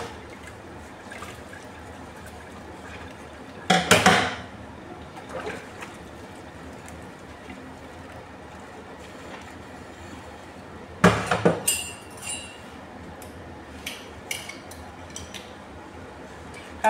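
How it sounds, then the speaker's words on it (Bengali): Pots and pans being washed with water: a faint steady trickle runs throughout, broken by two loud bursts of metal clattering and scraping and a few lighter clinks near the end. "যাক, এখন হাঁড়ি পাতিলগুলি ধুয়ে নেই।"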